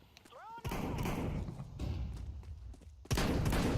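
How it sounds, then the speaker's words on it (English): A shotgun fires in a video game as two loud, sharp blasts, each followed by a rumbling decay, while a person talks over the gameplay. "Shotgun ngeras."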